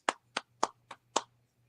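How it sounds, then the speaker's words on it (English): Five sharp hand claps land close by in quick, slightly uneven succession, each crisp and separate, with a faint low hum underneath and no voices. "You gave her a clap."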